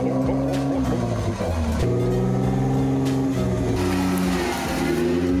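A Jeep Wrangler engine revs hard while the vehicle is pulled from deep mud, a loud, sustained droning rev whose pitch shifts up and down over several seconds.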